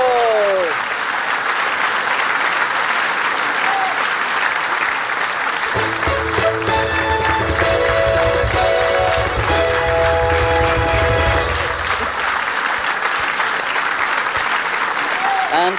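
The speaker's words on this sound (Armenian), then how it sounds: "այո, ավելի ջերմ ծափարեն" A stand-up comedy audience claps warmly and continuously throughout, with a denser, fuller burst of applause and some cheering in the middle. A voice speaks over the clapping.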